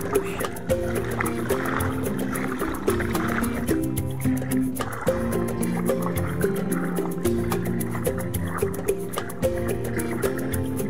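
A boat pushed by hand through shallow water at low tide on a beach, with repeated close sloshing, dripping and splashing in an uneven rhythm, plus a few faint background voices.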